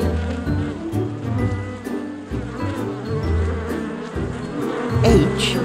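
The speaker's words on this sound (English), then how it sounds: "Busy bees." Steady buzzing of bees droning together, a continuous hum that swells slightly toward the end.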